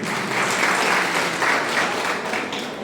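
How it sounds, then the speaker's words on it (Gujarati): Dense, steady audience applause at a Gurukul university hospital gathering in Kalol for World Disability Day, clapping for a swami, sustained and loud throughout with no pauses. "એટલે જોરદાર તાળી થઈ જાય આપણે સ્વામી માટે"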